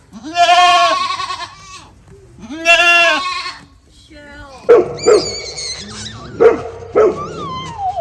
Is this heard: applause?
no